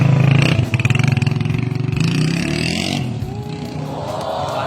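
Converted TMX155 motorcycle bored out to 175cc revving its exhaust, a loud close rumbling engine that pulses early then holds a steady drone, with voices and crowd noise faintly in the background.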